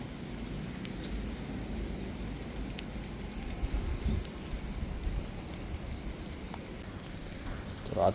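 Rain falls steadily outdoors after a long dry spell, a soft, continuous patter with a few faint distant thuds, fairly quiet throughout and with no one speaking.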